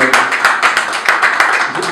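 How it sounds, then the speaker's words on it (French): Brief burst of audience clapping at a press conference for a concert announcement: dense, rhythmic handclaps, fairly loud and close, with some voices mixed in. "Est-ce qu'on peut applaudir s'il vous plaît?"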